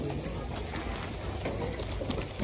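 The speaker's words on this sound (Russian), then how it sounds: "Птичьи голоса." Pigeons or doves coo from a record of bird voices, a soft repeated cooing over steady broadband hiss that runs through the whole stretch with no talking.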